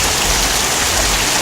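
Heavy rain from Hurricane Irma pouring onto a backyard, a dense, even hiss of drops hitting surfaces, loud and unbroken for the whole stretch.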